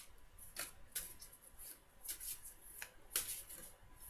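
Oracle cards drawn one at a time and handled, giving soft papery shuffles and sharp flicks in quick bursts, close and quiet with no talking.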